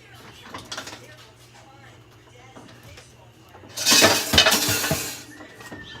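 Fish added to a boiling cooking pot makes a loud, roughly one-second clattering splash after a stretch of quieter kitchen noise, with a person talking nearby.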